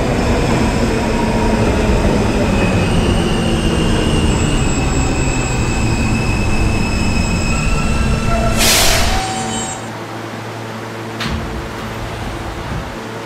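A D train on an R160A subway car rumbles steadily along the rails in New York with a loud, continuous roar and a brief high squeal of wheels before the noise drops and settles.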